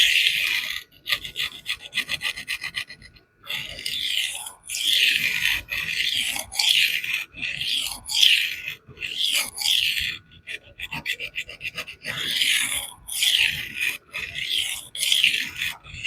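Knife steel, 14C28N, being sharpened on abrasive films with light pressure, giving a steady rasping rub in repeated strokes of about a second each. The strokes come in close bursts, with a short pause near the start.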